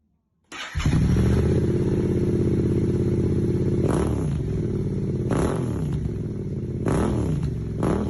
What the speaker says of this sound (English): My dad was driving a 1250cc Suzuki Bandit, and my brother was chilling on a Yamaha Tenere 700 adventure bike.